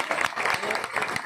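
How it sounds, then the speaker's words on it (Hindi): Audience applause at a road naming ceremony for the late Chaudhary Kishorilal Marg, led by the mayor: a short, dense burst of clapping from a crowd, steady and fairly loud for over a second. "तालियां।"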